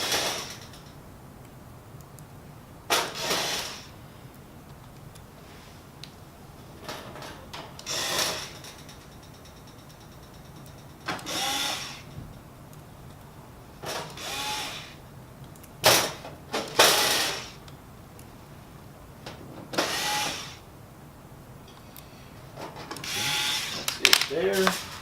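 Screws are driven in to tighten the covers on a Kyocera TASKalfa 3501i/5501i copier, giving repeated short ratcheting whirs of a driver in separate bursts between quiet pauses, close by.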